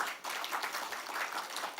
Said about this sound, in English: applause for the Icoleg.